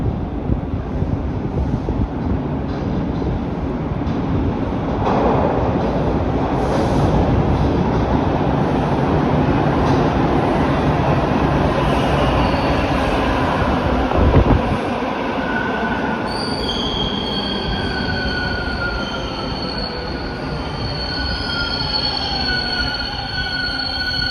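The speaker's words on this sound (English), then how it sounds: "And here comes the train." A Toronto Line 2 Bloor-Danforth subway train roars in and rumbles past for a long stretch, then slows with high-pitched squealing brakes as it pulls into the station.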